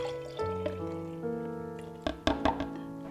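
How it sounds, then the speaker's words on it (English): Lavender glycerite being poured into a jar, a soft trickle and glugging liquid with light glass knocks and clinks near the end, close and quiet. "And then we'll just pour it into the jar."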